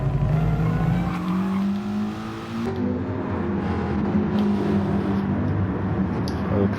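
A Mustang race car engine in a racing video game drones loud and steady, its pitch climbing through the gears as the car pulls down a straight, with a shift partway through.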